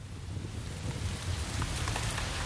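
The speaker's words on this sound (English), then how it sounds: "The forest battlefield is deluged by cold, relentless, torrential rain." Torrential rain pours down on a forest battlefield, a cold, relentless deluge heard as a steady, dense hiss with a low rumbling undertone, continuous and unbroken throughout.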